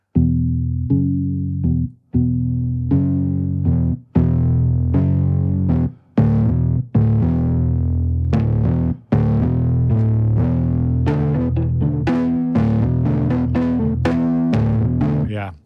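Distorted, saturated synthesizer chords play in a steady rhythmic pattern, gritty and buzzy, with brief gaps between phrases.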